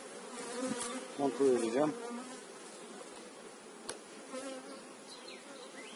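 Honeybees buzz loudly around an open hive during a chestnut honey harvest, a steady dense drone with a few sharper swells, while a person speaks briefly nearby.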